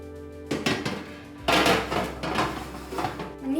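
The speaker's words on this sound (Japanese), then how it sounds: "そしてこれをオーブンに入れていきます。" A baking tray goes into an oven with metallic clanks and knocks, a scrape of the tray sliding in and a solid thud as the oven door shuts, close by with no talking.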